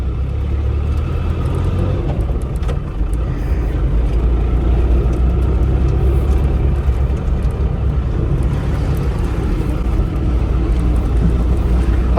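A Land Rover Discovery drives in low range after an LT230 transfer box change, making a loud, continuous rumbling drivetrain and engine roar that holds steady and close with no pauses.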